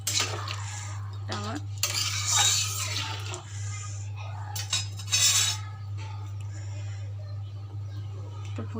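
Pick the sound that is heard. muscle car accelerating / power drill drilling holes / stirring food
stirring food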